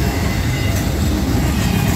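A Norfolk Southern freight train with six locomotives on the lead rolls through Homestead, Pennsylvania as a loud, steady rumble of wheels and engines, heavy low-end noise filling the full two seconds with no voices.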